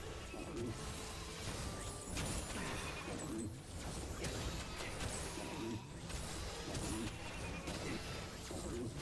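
Flying sheep bleat repeatedly in the Skylanders Superchargers video game, several bleats standing out over a dense, constant wash of game music and effects, with crash-like impacts mixed in.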